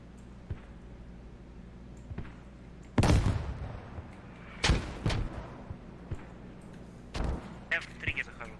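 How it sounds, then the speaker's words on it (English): Mortar fire in a military video game, a few deep booming blasts spaced several seconds apart, with fainter distant thuds in between over a low background rumble. "Наш миномет бьет."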